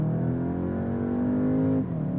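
A 2023 Skoda Octavia RS IV in sport mode accelerates hard, its engine note climbing steadily in pitch as it loads up, then a quick dip at a gear change before pulling again, heard close from inside the cabin.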